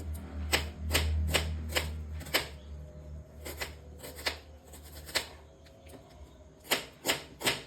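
Knife chopping onion on a board for a Bengali egg curry, a series of crisp, irregular cuts, some in quick bursts, others spaced apart, close and clear over low kitchen hum.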